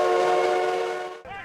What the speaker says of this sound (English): And all aboard and backstage in the historic 1880 train.